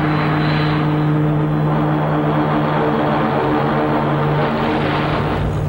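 A propeller airplane comes in to land, its engines a loud, steady drone with a strong low hum filling the whole stretch.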